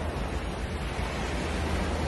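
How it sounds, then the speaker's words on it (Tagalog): Strong ocean waves surge against the shore at Entalula Island, El Nido, Palawan, producing a loud, continuous broadband roar with no distinct breaks. "ang lakas ng alon"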